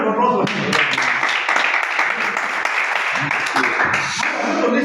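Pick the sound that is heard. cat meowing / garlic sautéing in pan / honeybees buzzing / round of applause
round of applause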